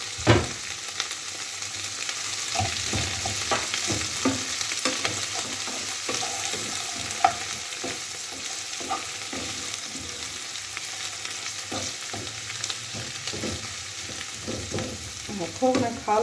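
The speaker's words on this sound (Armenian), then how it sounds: "մի րոպե տապակվի ու լցնենք բազուկի թևերը" Beet stalks frying in a pan, a continuous close hiss and crackle punctuated by repeated scraping stirs throughout.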